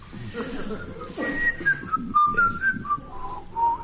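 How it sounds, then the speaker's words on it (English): Whistled melody from a fisherman character in a popular song, a clear wavering tune running over orchestral accompaniment and background sound, steady and fairly loud throughout. "this fisherman, to attract her attention, breaks into whistles."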